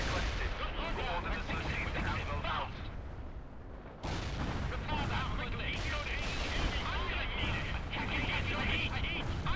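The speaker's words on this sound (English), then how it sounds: "Blowing up all these apartment buildings." Laser-guided bombs in the World in Conflict video game blow up apartment buildings in a continuous rumble of dense, rolling explosions and artillery-like booms. A fresh blast lands around the four-second mark.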